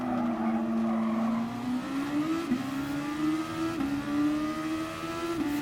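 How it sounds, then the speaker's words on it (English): Super Formula race car engine in Gran Turismo Sport at Bathurst, a loud steady high-revving drone rising gradually with brief dips at gear shifts, continuous throughout with no talk. "still fun to drive these Super Formula cars"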